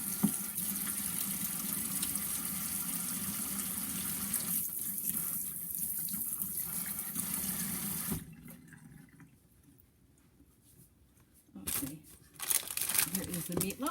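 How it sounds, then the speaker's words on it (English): Water runs from a kitchen tap into a sink while hands are washed during vegan dinner cooking, a steady rushing flow that drops away near the end before a few brief splashes and rustles return. "Let me wash my hands"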